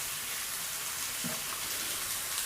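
Continuous bright sizzle of fish masala frying in a hot pan with chili chutney as it is sautéed, a steady close hiss with a faint stir or scrape partway through and no voice.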